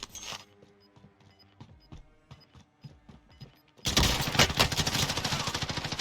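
Gunfire in the video game Warzone: a quiet stretch of faint repeated shot taps, then a sudden loud sustained burst of rapid automatic fire over the last couple of seconds, with no talk.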